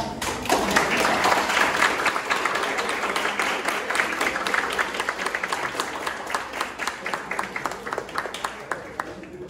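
Applause from a classroom audience after the prosecution wins a verdict in a university law school mock jury trial, dense clapping that starts loud and slowly thins toward the end, with some voices mixed in.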